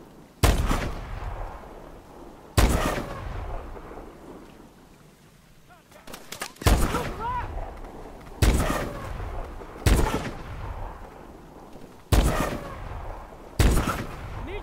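Gunfire from the Call of Duty Advanced Warfare campaign: about seven loud, sharp rifle shots spaced a couple of seconds apart, each with a short echoing tail and quieter background between them.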